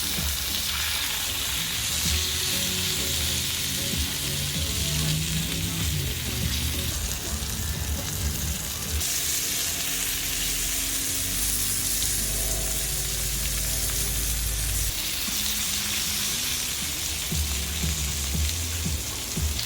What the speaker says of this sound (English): I seared every edge, every side of the steak.